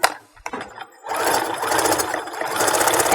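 Sewing machine stitching Christmas stocking fabric pieces, starting after a few soft handling knocks, then running in one steady, loud, continuous whir close by.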